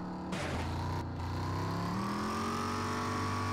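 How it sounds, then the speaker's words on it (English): A car engine revs up loudly and close by, with sharp throttle blips before settling into a steady, rising roar. "Can you hear me over this engine?"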